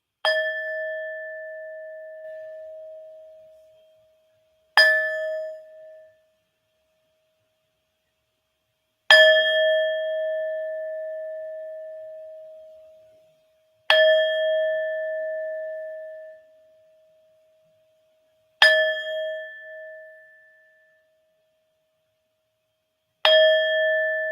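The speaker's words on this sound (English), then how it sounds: "So let's take that first gong." A gong struck for relaxation rings out six times at slow, even intervals, each bright metallic tone blooming and fading into silence before the next strike.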